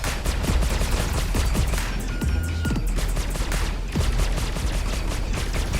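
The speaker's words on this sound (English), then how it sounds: "We've still got all our guns firing" In Star Citizen space combat between a Drake Buccaneer and an Anvil Super Hornet, ship guns fire in continuous rapid bursts, a loud, dense crackle of shots with heavy thuds that continues throughout.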